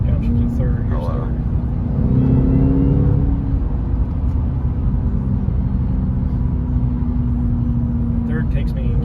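A 2011 Cadillac CTS-V engine is downshifted into second gear, holding a loud, steady low rumble and drone with a brief rise in pitch early on, while a voice talks over it.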